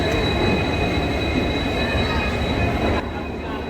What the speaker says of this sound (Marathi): ट्रेन मस्त पलत आहे.